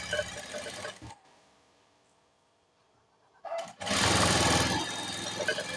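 A sewing machine stitches piping thread in two bursts, a short run and then a louder, sustained whirring run after a quiet pause, close by with no talk.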